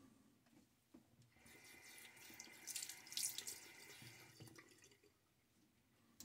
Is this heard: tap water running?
yes